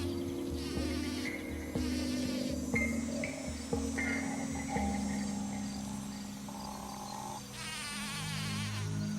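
Bumblebees buzzing around flowers in a steady, fairly quiet drone with shifting pitch, heard without any talking.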